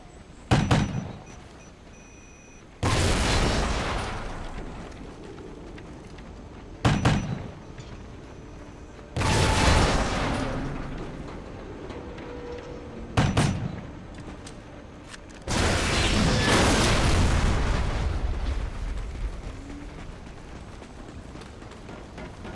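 Explosives blow out the crane supports on the Unearthed map in Call of Duty Ghosts. Four heavy booms hit at intervals, each followed by a long rumbling, crashing tail, loud and close, with no talk.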